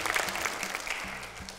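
Studio audience applauding at the close of a televised music performance, a moderate, even round of clapping that carries through the short stretch without voices.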